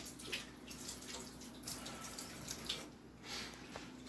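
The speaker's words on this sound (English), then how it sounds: "I gotta wash some of the salt off my hands so I don't spread it all over the house." Salty hands being rinsed under a running kitchen tap: a soft, steady rush of water with faint splashing, quiet and alone without talk.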